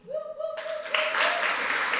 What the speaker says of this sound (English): A round of applause for Tineke Sumter.